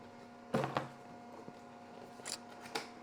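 Packing tape being cut on a toy box for an RC stunt car, a few quick close snips and crackles with quiet pauses between.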